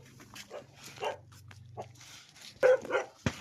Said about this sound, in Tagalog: Sumalubong sa atin aso.